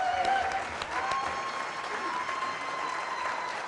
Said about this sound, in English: One more applause for this guy,